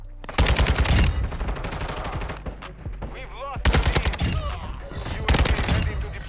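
Kastov 762 assault rifle firing in a video game, set up for zero recoil: dense, loud bursts of automatic fire in several long strings with short pauses, plus game sound effects and occasional tonal cues between volleys.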